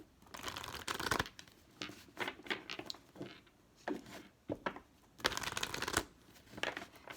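An oracle card deck being shuffled by hand, repeated riffling and sliding card bursts in irregular clusters, close and fairly soft, with no speech.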